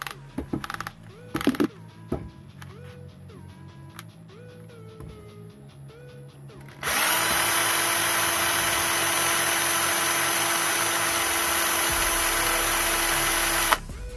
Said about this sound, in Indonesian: Coba untuk bor DC-nya ini saya putar dengan putaran paling cepat ya.